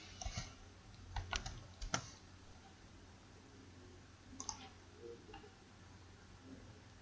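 Scattered computer keyboard taps while working in SolidWorks: a few crisp clicks in a quick cluster, then sparse, fainter keystrokes against a quiet room.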